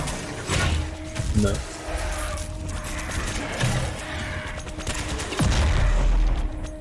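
Grenade blasts and gunfire in the shooter game Doom Eternal, with dense rapid shots and several heavy low booms, the loudest near the end, under a steady game soundtrack and brief talk.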